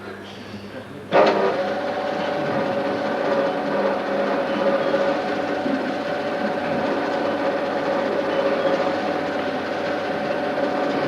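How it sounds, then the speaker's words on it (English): A small motor driving a Meccano model engine starts abruptly and keeps running with a steady whirring hum and faint mechanical rattle, close by and constant. "it takes so much power to drive that the motor itself drowns out all the noises it makes."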